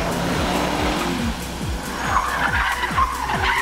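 Car driven by a professional drifter slides through a drift, tires skidding and squealing loudly over a revving engine with repeated rhythmic pulses, close and continuous for a few seconds.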